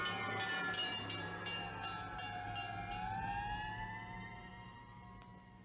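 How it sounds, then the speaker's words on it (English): A fire engine siren wails loudly and steadily, its pitch dipping and then climbing again, with rapid high pulses layered over it. "Fire engines are really loud, aren't they?"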